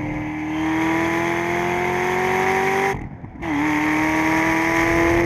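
An American muscle car screams past at speed on a race track near 108 mph, a loud sustained engine note rising steadily, briefly cut off by a silent gap, then resuming at a slightly lower pitch.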